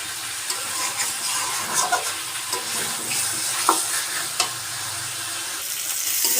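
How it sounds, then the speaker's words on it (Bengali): Turnip with spiced shrimp stir-fries in a hot pan, a steady close sizzle broken by soft scrapes and taps of the stirring utensil, with no talking. "আমি এটাকে আরেকটু কষাবো"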